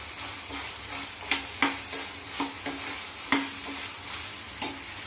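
Two large-cut onions fry quietly in a pan for an Indo-Chinese egg chilli, a soft sizzle under scattered spoon scrapes and sharp taps against the pan as they are stirred.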